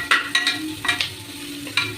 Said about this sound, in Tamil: கருவேப்பிலையும் மிளகாவையும் சேர்த்துக்கணும்